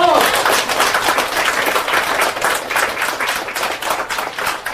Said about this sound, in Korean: 여기서 박수 한번.